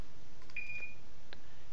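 An e-ticket scanner gives a clear electronic beep as it reads a valid ticket: one sustained high tone, followed by a brief second blip, heard alone in a quiet room.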